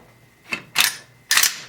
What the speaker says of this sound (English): or rack the bolt